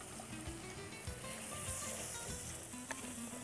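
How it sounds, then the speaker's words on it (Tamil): Mint masala sizzles and fries steadily in a hot pan while salt is stirred in, a close, continuous crackle with faint scraping from the stirring. "உப்பு போட்டு வதக்கிறோம்,"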